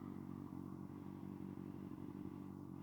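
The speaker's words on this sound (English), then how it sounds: "She got the warm start with the M4 exhaust." A motorcycle fitted with an M4 exhaust idles after a warm start, a low, steady rumbling throb with slight mechanical clatter, continuous and fairly quiet at moderate distance.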